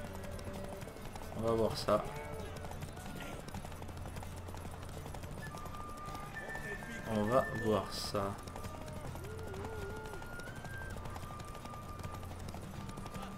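Horse hooves clip-clopping in The Witcher 3 game, a steady mid-level patter running throughout with someone talking over it and brief louder bursts of game sound.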